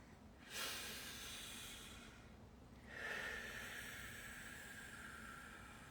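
A deep, slow breath taken during a guided breathing exercise in a group energy session, with a hissing inhale near the start and a second long breath midway, both close and audible with no talk.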